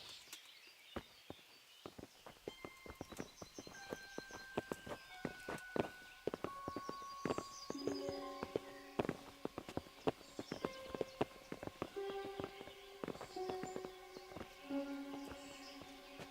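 Hooves clop steadily on hard ground, several horses moving at a walk, with occasional chimes and tones ringing in the background, in the video game Kingdom Come: Deliverance.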